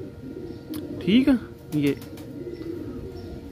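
Pigeons cooing in a loft during hot weather, with a couple of soft, throaty coos rising close by over someone speaking in Hindi-Urdu.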